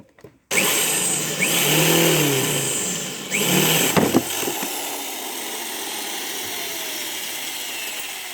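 A drill with its bit boring into a washing machine motor during teardown: a steady loud whine that starts abruptly, shifts pitch under load a couple of times, then settles into a continuous drone.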